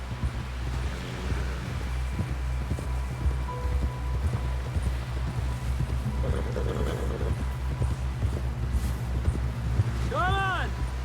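Horse hooves in Red Dead Redemption 2, beating in a rapid, steady galloping rhythm across the whole stretch. A loud, low, rumbling drone sits underneath, and a brief whinny-like call rises near the end.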